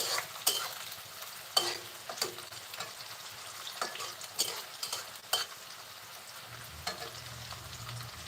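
Onions frying in a pan for a homestyle Bengali chicken curry, a low sizzle broken by repeated sharp scraping and clattering stirs of a spatula against the pan, close and fairly quiet, with no talking.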